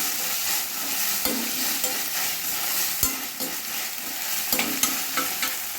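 Ginger garlic paste fries in a pan with a continuous close sizzle, broken by a few sharp spoon knocks and scrapes as it is stirred, with no voices.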